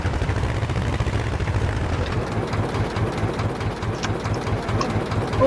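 Farm tractor engine running at a steady idle, a rhythmic low chugging knock repeating evenly, heard close up with no voices.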